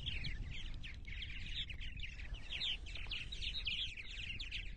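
Mature purple martins at a colony on eastern Long Island in spring give continuous chirping, gurgling calls from several birds at once over a low rumble of background noise.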